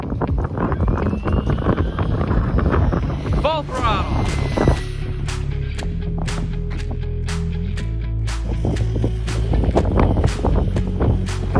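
A DeeRC 1217 budget RC truck runs at full throttle outdoors. A whining motor tone holds steady over heavy wind buffeting, with a voice talking at the start and sharp clicks and ticks through the second half.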